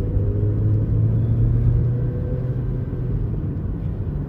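A 2021 Haval Jolion Luxury SUV accelerates at full throttle, its engine and road noise a steady low rumble heard from inside the cabin, swelling slightly then easing, with no voices.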